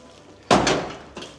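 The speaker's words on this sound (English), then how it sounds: "I'm gonna throw the door open." The door of a 1977 Ford F100 pickup is thrown open, producing a sharp close metallic clunk and rattle, followed a moment later by a fainter knock.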